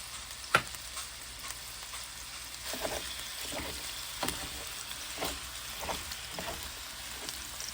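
Onions fry in a pan, a quiet steady sizzle broken by irregular scraping and stirring strokes, with one sharper clack near the start.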